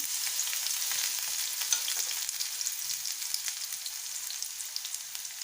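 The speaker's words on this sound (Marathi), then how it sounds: "मी गॅसवर एक पॅन ठेवले त्याच्यामध्ये सगळ्यात आधी घालणार आहे कांदा त्यानंतर यामध्ये टाकणार आहे शिमला मिरची" Chopped onion and capsicum fry in a pan for Manchurian, making a continuous bright hiss at steady moderate loudness, close up with faint stirring and no speech.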